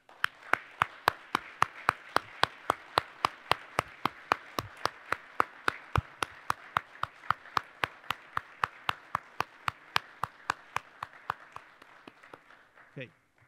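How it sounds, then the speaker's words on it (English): A steady round of clapping from an audience at a college of engineering recognition ceremony, honoring inventors who stand. Sharp, evenly spaced claps keep a brisk rhythm for over thirteen seconds, fairly faint and distant, then taper off. "I ask the audience to join me in a round of applause"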